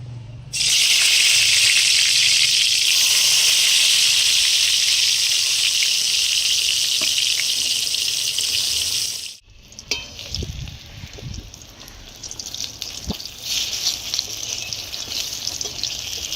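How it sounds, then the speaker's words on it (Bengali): Eggplant fries in oil in a wok over a strongly burning stove: a loud rushing sizzle for several seconds, then a quieter, uneven crackle with utensil knocks, and no talking. "এবার আমি বেগুনটা ভেজে নেব।"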